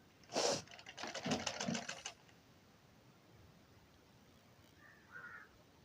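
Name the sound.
sewing machine stitching a folded blouse seam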